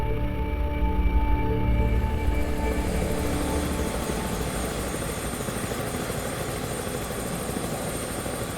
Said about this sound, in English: Only a small helicopter connects Diomed with the rest of the continent.